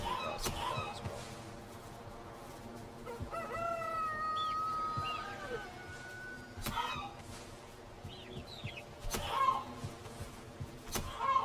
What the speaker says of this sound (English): Chickens collecting over here, so hopefully we have some chicken action.